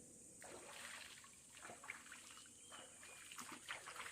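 Water trickles softly and steadily over stones in a stream, a faint continuous gurgle with small splashes.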